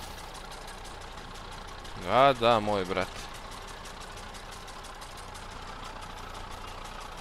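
An IMT 560 tractor idles in Farming Simulator 22 with a steady, low mechanical hum that runs unbroken throughout. Someone speaks briefly near the middle.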